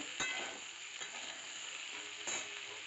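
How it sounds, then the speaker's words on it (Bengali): Potato and pointed gourd curry, salted, being stirred in a pan, with a steady soft sizzle and a few light scrapes of the spoon, close and alone. "লবণ দিয়ে একটু নাড়াচাড়া করে নেব।"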